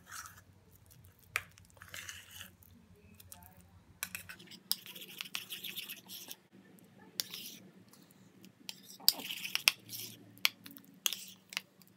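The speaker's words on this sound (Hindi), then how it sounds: "थोड़ा सा हम डालेंगे रोज़ वाटर और सब चीज़ों का अच्छा सा पेस्ट बना लेंगे।" Rose water is worked into a face paste with oil and sweet potato, giving soft intermittent scraping and squishing sounds of mixing, with quiet whispery talk between them.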